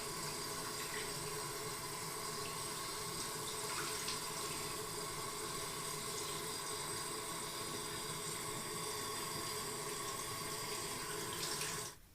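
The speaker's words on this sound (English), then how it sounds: "the water is going to flow from the clean side down and out the dirty side" Steady running water rinses through a K&N air filter from the clean side out the dirty side, a continuous close splashing stream like a sink tap that stops abruptly at the end, with no talking.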